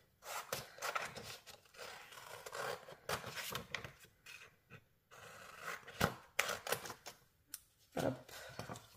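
Scissors snip out a paper template for die-cut crafting, a close, quiet run of irregular sharp cuts and rustles with short pauses between them.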